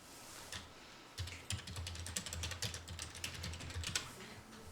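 Computer keyboard keys clatter in a quick, steady run of clicks while a file name is typed into a save dialog in WordPad, close and clear, with no talking.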